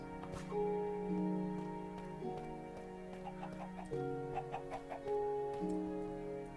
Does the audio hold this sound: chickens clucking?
yes